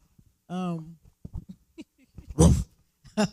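A man imitates a dog's bark with his voice, giving a short harmonic woof followed by a louder rough burst, with brief talk and laughter around it in a quiet room.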